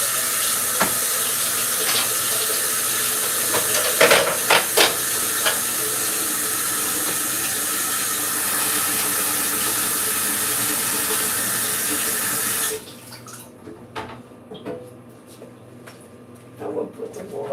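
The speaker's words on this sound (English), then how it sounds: "I will put the water on." Water runs steadily from a kitchen tap into a sink, a loud continuous hiss with a few clunks, then stops abruptly and leaves quieter room sounds.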